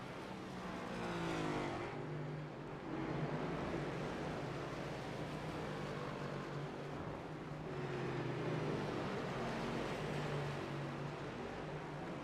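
Onboard a Next Gen series race car at the Charlotte Roval, the engine snarls and rises and falls as the driver feathers the throttle through turn one, loud and close and continuous with no talking.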